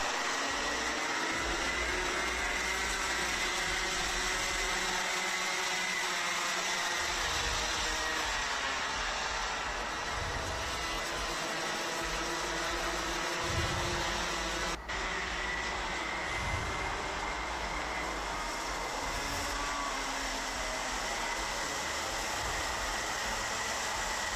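Rotax Max senior racing karts at Wackersdorf during a 2021 Euro Trophy heat produce a loud, sustained, buzzing engine drone from a pack of machines revving together, steady with slight rises and dips throughout.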